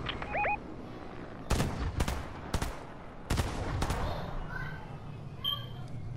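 Scattered gunshots in the video game Fortnite: about five sharp cracks, some in quick pairs, spaced irregularly across a quiet background, moderately loud with faint ambient game noise.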